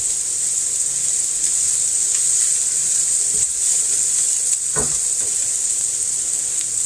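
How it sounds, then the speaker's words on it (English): Onions sauté in a pan with a steady, bright sizzle that holds throughout. A couple of short scraping stirs cut in near the middle, and there is no speech. "we're going to saute these till they get soft"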